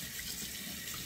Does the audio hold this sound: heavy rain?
no